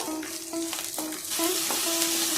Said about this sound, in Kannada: ಕಾಲು ಕಪ್ಪು ಬಟಾಣಿ ಇದನ್ನ ಚೆನ್ನಾಗಿ ಫ್ರೈ ಮಾಡ್ಕೊಳ್ಳೋಣ ಇದು ಎಣ್ಣೆಯಲ್ಲೇನೆ ಫ್ರೈ ಆಗಬೇಕು